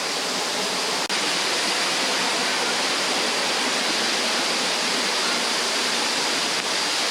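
Tai Boeng waterfall in Ubon Ratchathani, Thailand, swollen in the rainy season, pours with a loud, continuous broadband roar of rushing water, steady throughout, with no talking.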